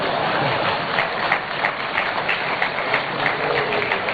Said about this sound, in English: Please, can I get another applause?